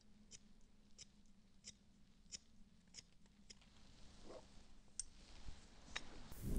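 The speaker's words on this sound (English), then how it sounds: "What you can do as well, you can point cut that too, just making sure you follow the guide" Barber scissors point cutting hair, heard as a steady series of soft, crisp snips about every half second, close and quiet, over a faint low hum, with louder rustling at the end.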